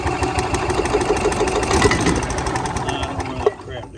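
A Club Car golf cart's small gasoline engine, just after a carburetor adjustment, runs with a steady, busy mid-pitched clatter for a few seconds, close and loud, before a sharp knock near the end as it falters.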